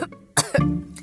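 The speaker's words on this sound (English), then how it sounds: "She coughs," A woman gives a short cough, a sharp close burst followed by a second rougher, throat-clearing cough.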